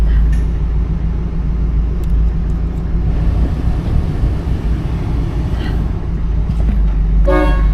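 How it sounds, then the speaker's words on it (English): Car horn of a 1981 Cadillac Eldorado honking loudly and steadily at close range, with a short burst of extra tone near the end over a continuous low rumble. "Horn is good."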